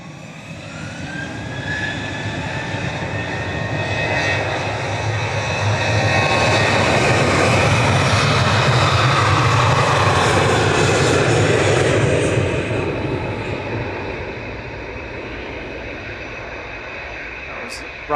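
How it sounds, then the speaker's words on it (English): A Ryanair jet bound for Limoges taxis past at Manchester Airport, its engines a loud steady roar with a rising whine that swells through the middle and eases off toward the end. "Ryanair to Limoges, just trundling in past"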